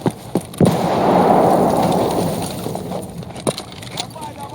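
A grenade bursts in a video game with a loud, broad rumbling blast that swells and fades over a couple of seconds. Sharp shots crack before and after it, and voices speak around it.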